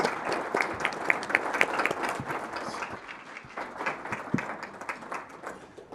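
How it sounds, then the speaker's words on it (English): An audience applauds the panelists after a panel discussion on leadership, law enforcement and the media, steady moderately close clapping from a sizable crowd that gradually tapers off. "Another round of applause for our panelists, please."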